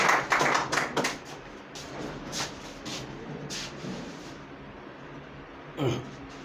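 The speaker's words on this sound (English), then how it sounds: "please give a big hand for applause" A few people in a spoken English class clap briefly at first, the sharp claps quickly thinning out into scattered taps and shuffling before one last soft thump.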